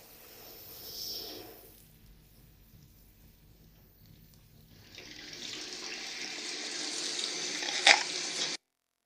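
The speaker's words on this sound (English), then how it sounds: "And now the water is gushing powerfully." A tap gushes powerfully, starting as a softer trickle before a strong, broad hissing stream of water pours steadily for several seconds and then cuts off abruptly.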